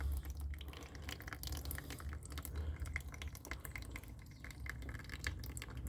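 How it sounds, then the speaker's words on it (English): Liquid drips and trickles steadily out of a garden bin, a continuous faint splashing texture heard close with no speech over it. "So we let it drip."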